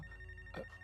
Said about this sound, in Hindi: ये सारे फोन बजते ही जा रहे हैं